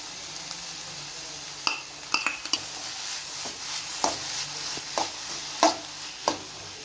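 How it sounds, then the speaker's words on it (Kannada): Grated carrot fried in a pan gives a soft low sizzle, broken by about a dozen sharp scrapes and clinks of a spoon stirring against the metal, close and fairly quiet. "ಇವಾಗ ತುರಿದಿಟ್ಟಿರೋ ಕ್ಯಾರೆಟ್ನ ಆ್ಯಡ್ ಮಾಡ್ಕೊಳ್ತಾ ಇದ್ದೀನಿ"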